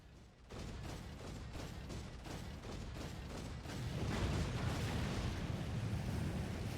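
A long rumbling explosion in a Final Fantasy XIV cutscene, repeated low bursts that swell into a sustained roar toward the end.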